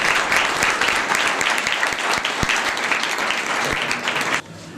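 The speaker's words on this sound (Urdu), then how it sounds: "بھرپور تالیوں کی گونج میں ہم انہیں ویلکم کرتے ہیں" Enthusiastic crowd applause welcomes a speaker at a Presbyterian church peace and justice program in Youhanabad, a dense, sustained roar of many hands clapping from a large audience that cuts off abruptly near the end.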